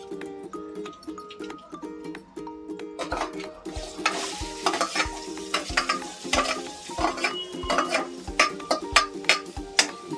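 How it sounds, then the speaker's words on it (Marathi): Onion sizzles in hot oil with mustard seeds in a pan, stirred with a spoon that taps and scrapes the pan in a quick, uneven rhythm over a steady frying hiss. "आता कांदा घालते."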